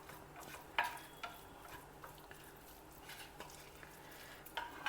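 Sevai is gently folded into tomato gravy, soft stirring scrapes with a couple of sharper utensil taps against the pan, quiet and close with no talking.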